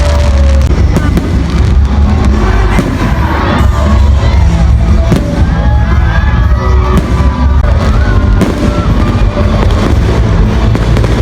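New Year fireworks pop and crackle continuously amid a cheering crowd and shouting children at a political rally, dense and loud throughout.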